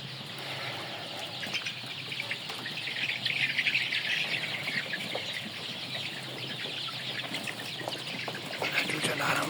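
Forty-day-old chicks chirping in a dense, continuous chorus of high, overlapping peeps that stays steady and close throughout, with no talking.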